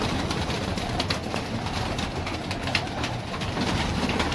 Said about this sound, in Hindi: ये खरगोश अखा कबूतर है,